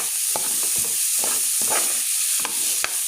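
Tomatoes go into a hot frying pan with garlic, onion and ginger, giving a steady close sizzle with repeated scraping stirs of a utensil.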